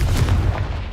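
An explosive Confringo spell blast from Hogwarts Legacy, a short loud boom that fills the second with a deep rumbling burst and no talk.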